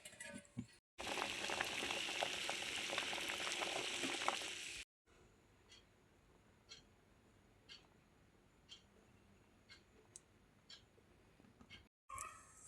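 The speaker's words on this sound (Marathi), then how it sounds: "मीठ टाकून उकडून घेऊ." Umbar (cluster fig) fruits boiling in salted water in a pot: a dense, loud bubbling hiss for several seconds, then a quieter stretch with faint scattered pops and ticks.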